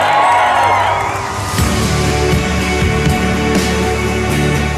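Campaign rally crowd cheering and whooping, a steady loud roar of many voices that swells and holds throughout.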